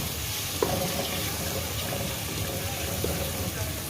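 Mutton chops with ground green chilli frying in a pan for champ masala, a steady low sizzle with faint scraping stirs throughout, fairly quiet and continuous.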